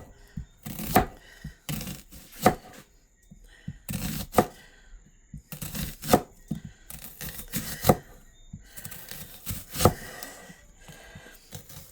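An onion being sliced thin with a knife on a cutting board for braised oxtail, a series of crisp chopping strokes in quick clusters with pauses between batches, close and clear.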